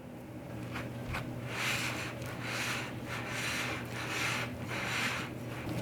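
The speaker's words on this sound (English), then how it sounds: "Scraping the sides and the bottom as you go." A spatula scrapes around a bowl of gluten-free chocolate peppermint cookie dough, giving soft rhythmic rubbing strokes that repeat steadily and close up, with no talk.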